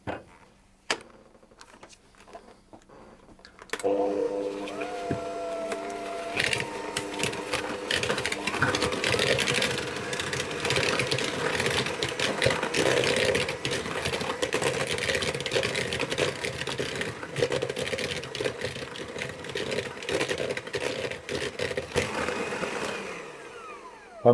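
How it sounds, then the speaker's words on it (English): An electric hand mixer creams butter and sugar for an oat and sultana cookie pie, starting after a few quiet seconds and then running as a continuous, loud motor whir with rattling beaters against the bowl. "I'll cream them until they're nice and fluffy, and I'm going to use my hand mixer"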